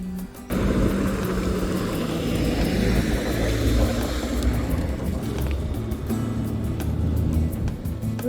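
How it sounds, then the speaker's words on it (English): Big trucks rumble past on Rakawa Road near Raukawa Aggregates outside Ashhurst, New Zealand: a loud, steady low engine roar that fills the whole clip after a brief quiet start, with no talking. "these big trucks are coming"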